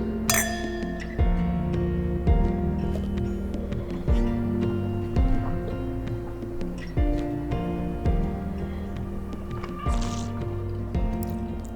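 Wine glasses clink repeatedly in a toast during a tasting at a Napa Valley family winery, with bright ringing chimes recurring every second or so over a steady background of music, close and clear.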